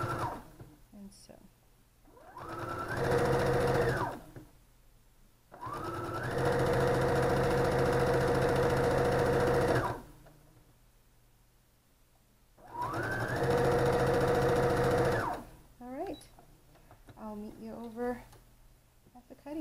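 Quilt pieces for a star pattern are stitched on a sewing machine in three sustained whirring runs, close and steady, with someone talking briefly in the pauses between them.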